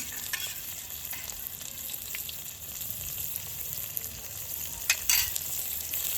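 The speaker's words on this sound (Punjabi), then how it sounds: "ਤੇ ਇਹਨਾਂ ਨੂੰ ਬਿਲਕੁਲ ਹਲਕਾ ਜਿਹਾ ਆਪਾਂ ਭੁੰਨ ਲਾਂਗੇ" Ginger and green chillies fry lightly in a pan, giving a continuous close sizzle with faint stirring scrapes and a couple of brief clinks near the end, with no voices.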